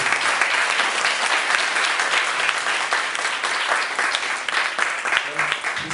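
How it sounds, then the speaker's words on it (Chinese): An audience applauding after a talk, dense sustained clapping from many hands filling the room at a steady, fairly loud level throughout. "那谢谢大家掌声啊"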